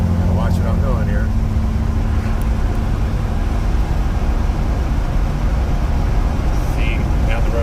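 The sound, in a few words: 1967 Dodge Charger 318 automatic driving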